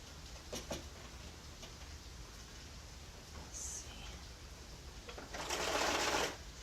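A sewing machine stitches a slipcover near its welt, a low steady mechanical whir that swells into a louder run near the end, with faint background noise.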